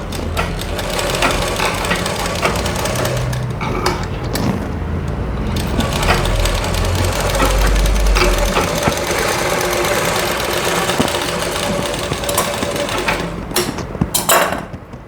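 A sewing machine stitches the neckline of a blouse with a continuous close mechanical whirr and rattle that runs steadily, pausing briefly near the end.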